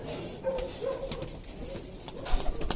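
Pigeons in a loft or coop softly cooing, faint and intermittent with low murmuring calls against a quiet background, no talking.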